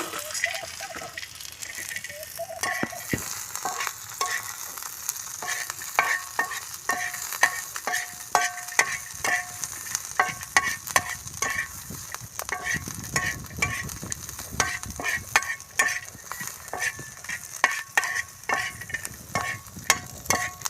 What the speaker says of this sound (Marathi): कांदा पहिले लाल भाजून घ्यायचा आहे आपल्याला त्यामध्ये आपण शेंगदाणे टाकून घेऊ